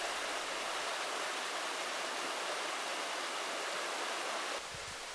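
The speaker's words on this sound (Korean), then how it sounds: "호타남 안내문이 설치된 근처의 계곡물을 담아보았습니다" Mountain stream water rushing through the Guchendong valley on Deogyusan, a dense, steady broadband roar of flowing water, close and unbroken, cutting off near the end.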